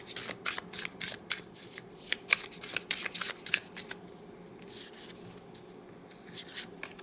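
Tarot cards are shuffled close up in quick, crisp riffling bursts for several seconds, then give way to softer, slower card handling and quiet rustling.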